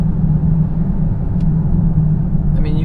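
Steady low rumble of a 2020 Hyundai Palisade SUV engine and road noise from inside, driving on twisty roads, constant and close, with no talking.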